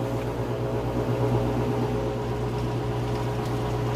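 An Amana HE washer spins fast with its drain pump running, giving a steady, loud mechanical hum with a constant tonal drone and whooshing water noise that stays even throughout.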